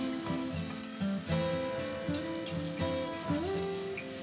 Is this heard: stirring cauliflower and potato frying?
yes